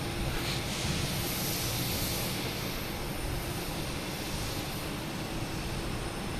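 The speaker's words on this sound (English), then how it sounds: "we have JetBlue taking off" A JetBlue airliner takes off at Boston Logan Airport, bound for Raleigh-Durham, producing a loud, sustained broadband engine roar that stays steady from start to finish without talk.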